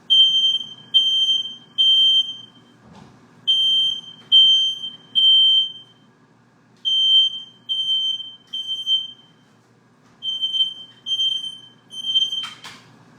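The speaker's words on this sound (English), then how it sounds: "I always forget that my smoke detector is going to go off if there's anything, including steam from the rice" A household smoke detector, set off by steam from rice cooking in a kitchen, shrills in loud repeated bursts of piercing beeps with short pauses between groups, alone with faint kitchen clatter underneath.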